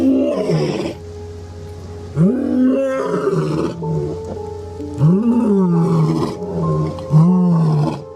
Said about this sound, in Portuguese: quando seu carro foi abordado por 2 enormes e destemidos leões machos